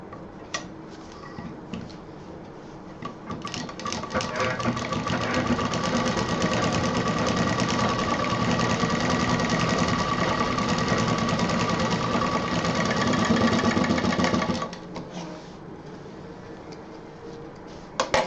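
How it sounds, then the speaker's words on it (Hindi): A sewing machine runs a double topstitch along the folded pocket edge of a DIY bag, starting after a few seconds into a fast, steady mechanical whir with rapid ticking, close and loud, then stopping near the end. "यहाँ पर डबल सिलाई ऊपर से देते हुए जोड़ देंगे।"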